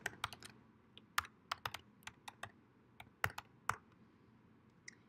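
Quick bursts of typing on a computer keyboard while entering an email address, irregular clustered key clicks, close and fairly quiet, with no talk.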